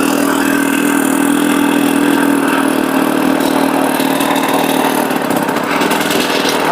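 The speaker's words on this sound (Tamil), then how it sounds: "வண்டியை ஸ்டார்ட் பண்ண வேண்டியதான்." A homemade ATV built from a used XL motorbike, its small engine running loud and close in a continuous buzzing drone that holds for the whole stretch with no talk.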